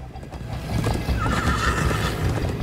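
A horse whinnies in a short, wavering call over a low rumbling background, in the video game Minecraft: Story Mode.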